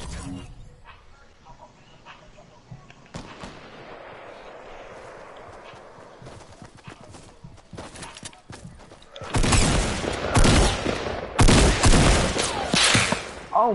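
Gunfire in a Fortnite squad match: quieter scattered shots and rustling early on give way to a dense, loud burst of rapid close-range firing in the final seconds.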